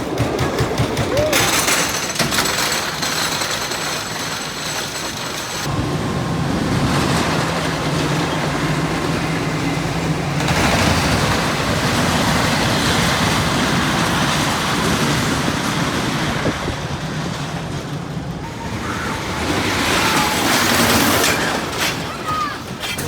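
A hybrid wooden roller coaster at Fun Spot America in Orlando rumbles and clatters loudly throughout the ride, with a heavy rattling roar that surges and eases as the train runs, and faint voices can be heard.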